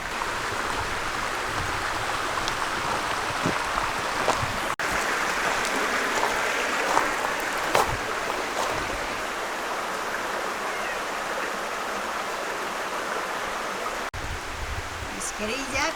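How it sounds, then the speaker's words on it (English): A low river flows steadily near a campsite, giving a continuous broadband rush of water close by with a few faint clicks over it. "The river is pretty low right now, which is great."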